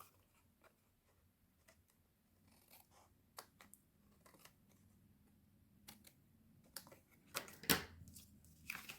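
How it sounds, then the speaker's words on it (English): Faint, quiet snips and ticks of scissors trimming paper for a stamped card, scattered irregularly across a hushed room, with a slightly louder crisp cut near the end. "then we'll do a little trimming on this one as well."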